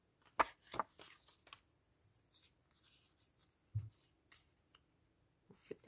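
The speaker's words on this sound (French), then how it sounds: "Je coupe mon petit tag." Scissors snipping a small paper tag for a junk journal, a few sharp close cuts at the start followed by faint rustling and a soft thud, quiet and without talk.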